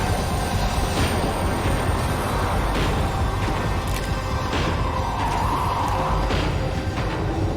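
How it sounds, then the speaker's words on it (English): A tram in the video game Max Payne 3 rolls and slows, giving a steady loud rail rumble with clattering wheel noise and faint squeals throughout, no voices. "The tram was slowing down, and I'd only just gotten on board."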